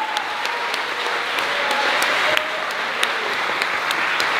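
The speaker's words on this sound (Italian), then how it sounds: "un applauso grandissimo per gli animatori che ho avuto" Sustained applause from an audience at a village show in Locana, a dense, even patter of many hands clapping throughout with a few sharper individual claps standing out.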